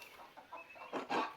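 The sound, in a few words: chickens clucking in Pentiment video game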